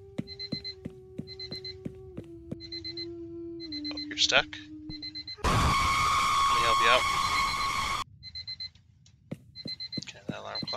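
Alarm clock in the paranormal investigation game Paranormal Investigators keeps ringing in repeated bursts of beeps, interrupted midway by a loud harsh blast of noise, while someone speaks briefly over it.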